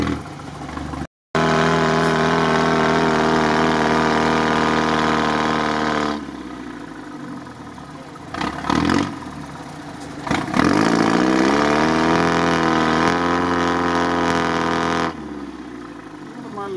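A GAZ-63 truck on KrAZ tyres labours through a swamp, its engine droning loud and steady with pitch dips and surges as it strains, alongside voices.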